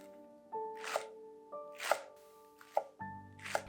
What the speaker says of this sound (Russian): И мелко нарезаю небольшой пучок зеленого лука.